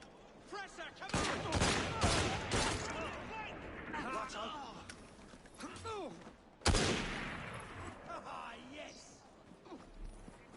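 Musket volley from a group of riflemen in the video game Assassin's Creed Syndicate: a sharp crack of massed shots cuts through ongoing voices and clip-clopping hooves, with a second loud burst later on.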